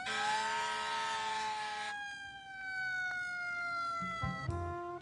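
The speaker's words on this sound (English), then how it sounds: "Caution, emergency vehicle approaching." Close, clear emergency vehicle siren with a steady tonal wail that slides lower in pitch, then switches to a different pattern near the end, with no talk.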